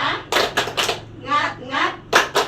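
Teachers and parents perform a rhythmic Indonesian group clapping chant at a school, sharp clusters of claps in a patterned beat alternating with chanted voices, close and fairly loud.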